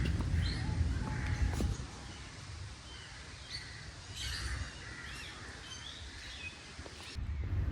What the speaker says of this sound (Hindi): ये परिंदों की आवाज़ें हैं जो इनकी चहचहाहट है